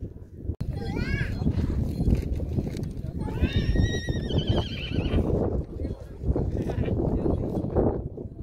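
A horse on Mount Bromo neighs in several rising and falling whinnies, fairly close, under ongoing chatter from nearby people and outdoor bustle.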